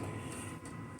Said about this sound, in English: It's my diesel heater keeping my shed warm,